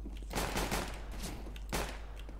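A single sharp gunshot in CS:GO cracks close and loud, followed by brief shorter reports and a quick fade, without talk.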